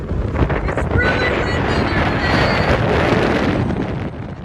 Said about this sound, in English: It may have been windy at Cape Blanco, but the lighthouse and the views were worth the gusts.